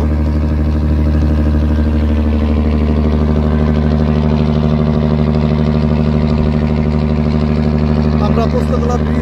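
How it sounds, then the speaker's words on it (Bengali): A passenger launch on the river from Dhaka toward Chandpur runs its engine at low thrust, a loud, steady, close droning hum with a constant low throb throughout, and no voices. "দেখতে পাচ্ছেন আপনারা লঞ্চটির ইঞ্জিন থ্রাস্ট"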